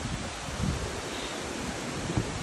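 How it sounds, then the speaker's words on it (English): Strong wind during severe weather roars as a dense, continuous rush that buffets the microphone, loud and unbroken throughout, with no voices. "I don't know if the video can grasp the power of the wind right now, but it's actually kind of terrifying"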